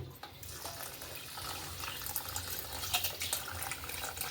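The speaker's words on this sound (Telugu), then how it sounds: "ఇప్పుడు దీని నిండా నీళ్ళు పట్టుకొని" Tap water runs into a container holding washed ragi grains for soaking, a steady splashing gush that grows busier and slightly brighter as the vessel fills, close and alone.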